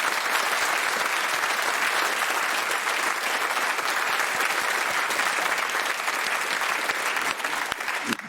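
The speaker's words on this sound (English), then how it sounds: "you've earned this unearthly monster of a round of applause." Dense, steady studio audience applause fills the Radio Theatre at a quiz show, loud and continuous throughout with no talk, thinning slightly near the end.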